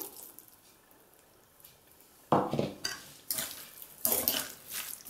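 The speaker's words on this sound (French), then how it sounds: "Ben voilà, on mélange bien." A potato and vegetable mixture with olive oil being stirred in a bowl, a quiet start followed by several loud, close bursts of scraping and clattering utensil strokes, no speech.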